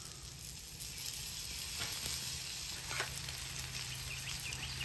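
A knob of butter sizzles with onions on a diner griddle, giving a steady, soft frying hiss with a few faint crackles and no voices.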